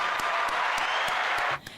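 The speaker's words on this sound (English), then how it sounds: "Clap it up for that." An audience claps steadily together for a couple of seconds, a dense even patter at moderate distance, ending abruptly with a final stray clap.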